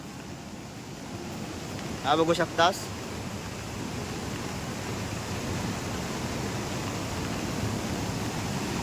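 Flood water rushing at Pendur lake in monsoon rain, a steady broad roar of moving water with some wind across the microphone, continuous throughout and briefly interrupted by someone speaking.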